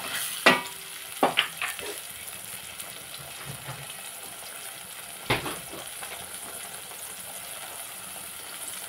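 Ginger garlic paste fries in a hot pan with a steady, close sizzle, broken by a few sharp clatters of a spoon stirring against the pan.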